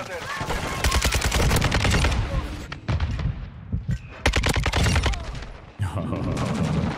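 Loud automatic gunfire in Call of Duty: Modern Warfare 2 multiplayer comes in several sustained bursts of rapid shots, separated by short pauses, close and dominant.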